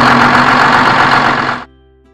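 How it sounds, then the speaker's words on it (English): A truck engine rumbles steadily and loudly up close with a broad, gritty roar, then stops abruptly, leaving a faint low hum. "Truck."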